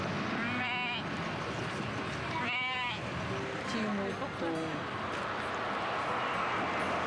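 A sheep bleats twice, close and clear, with a steady background murmur of voices and scattered quieter bleating-like sounds.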